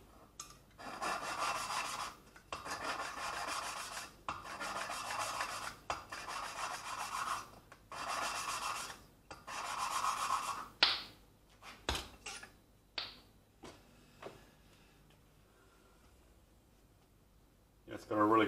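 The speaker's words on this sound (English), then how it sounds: "Sounds like it's really grinding now," Valve being lapped into a Holden 253 (4.2L) cylinder head with grinding paste, a rhythmic gritty rasp in repeated strokes that slows to scattered scrapes and taps, with someone talking at points.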